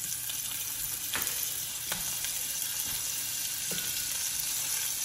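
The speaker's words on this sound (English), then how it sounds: "We got hot oil. We're gonna stick these in." Rabbit pieces fry in hot oil in a pot at an outdoor camp cook, a steady loud sizzle and crackle running throughout with a few sharper pops, no talking.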